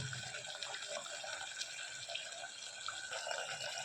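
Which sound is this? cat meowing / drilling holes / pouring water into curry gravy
pouring water into curry gravy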